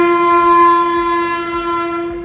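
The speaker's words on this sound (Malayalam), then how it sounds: "ഗുഡ്സ് ട്രെയിൻ പോകുന്ന കണ്ടോ?" A goods train hauled by twin WAG7 electric locomotives sounds a loud, steady horn blast close by, with the low rumble of the passing train beneath it.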